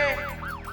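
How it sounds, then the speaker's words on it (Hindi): A police siren wails outside a housing society bungalow, loud rising-and-falling sweeps repeating quickly in a short close burst with no talking. "अरे ये घंटी नहीं, पुलिस का सायरन है।"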